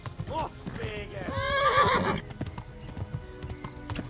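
A horse whinnies loudly in a drawn-out neigh over rhythmic hoof clip-clops, with a quieter voice speaking as the hoofbeats continue, in the video game Kingdom Come: Deliverance.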